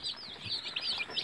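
A broody hen with her chicks makes a brief burst of rapid, high-pitched peeping and chirping, close and moderately loud, with no talking.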